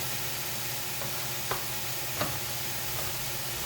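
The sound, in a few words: green beans added to cooking pot with potatoes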